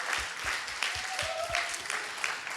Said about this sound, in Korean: 저희 후원해 주신 분들 감사하다고 박수하겠습니다.